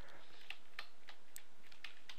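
Fingers type on a computer keyboard in a quiet room, giving soft irregular keystrokes at a steady, moderate pace.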